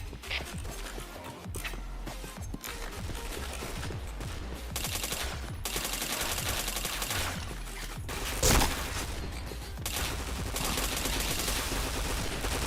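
Rapid gunfire in a shooter video game, with dense bursts of shots that carry on across the whole stretch and one sharper, louder blast partway through.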